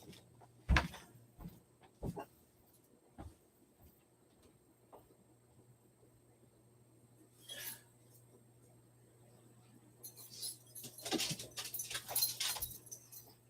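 A pet dog makes a scattering of quiet, brief sounds that suggest soft panting and whimpers. They come with small clicks and jingles in an otherwise calm indoor room, with a louder rustling burst near the end.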